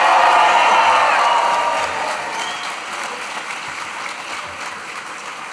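A graduation crowd for the class of 2025 bursts into loud, sustained applause and cheering that gradually fades to a lighter patter of clapping.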